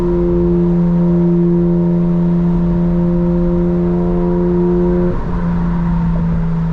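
Engine of a 2025 BMW M4 Competition holds a steady, loud drone with strong harmonics while driving, then the pitch dips briefly near the end as a gear shift or throttle change occurs.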